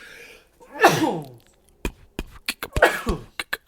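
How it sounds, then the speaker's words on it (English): Two loud, close sneezes, one early and one later, separated by sharp clicks and short bursts of breath or movement. "I'm going to sneeze."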